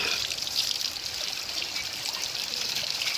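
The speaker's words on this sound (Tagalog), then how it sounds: "meron tayong bukal ng tubig dito sa Bagsit oh" Spring water trickles steadily from a natural spring at Bagsit, a continuous close bright splashing and babbling flow with no voices.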